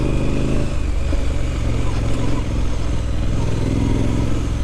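A 2021 Triumph Street Scrambler ridden off-road, its engine giving a loud, close, steady rumbling drone with slight shifts in pitch and no clear speech.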